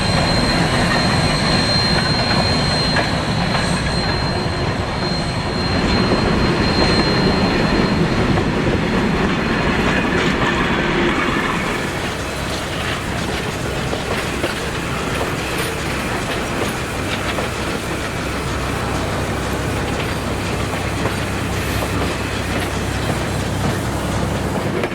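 A Shay No. 33 geared steam locomotive hauls a long logging train of gondolas and bench-fitted flat cars on a lumber railroad, with loud continuous rumble and wheel clatter rolling close by, shifting to a steadier drone midway.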